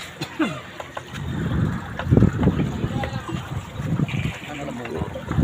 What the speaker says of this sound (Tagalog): Sasakay po tayo ng bangka.